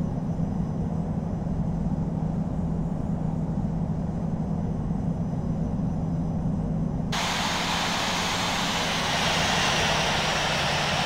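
Boeing 737 jet engines taxiing in the Infinite Flight simulator at San Juan give a steady, continuous roar that turns brighter and louder about two-thirds of the way through, with no voices.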